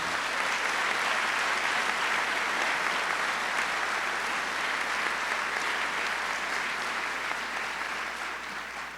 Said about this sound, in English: How about a round of applause for everyone?